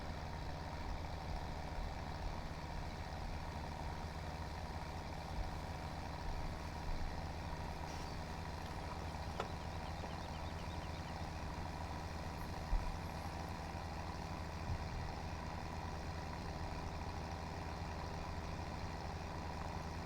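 A steady, droning vehicle engine hauling silage along a course in Farming Simulator 2017, a low, even hum running unbroken, with a couple of faint clicks and no voices.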